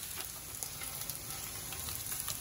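Ingredients for a homemade paneer dish fry in hot oil until light brown, giving a steady close sizzle with faint crackles and no voices.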